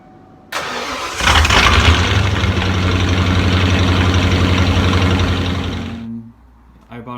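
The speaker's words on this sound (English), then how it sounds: "I'm going to try to get an exhaust clip and see how well it works. It's the first startup." A 1995 car with a 5.0 engine cranks briefly and fires into a cold first startup, the exhaust roaring loud and close before settling into a steady rumbling idle, then shutting off near the end.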